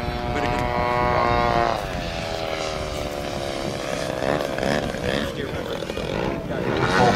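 A model aerobatic airplane with a broken rudder drones continuously overhead, its engine pitch sliding up and down as it flies knife-edge passes and snap rolls, moderately loud and alone.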